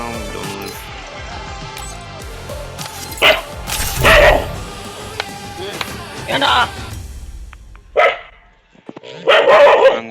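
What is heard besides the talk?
dog barking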